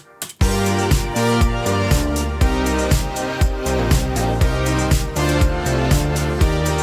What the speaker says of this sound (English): So I ended up going up an octave for the bass.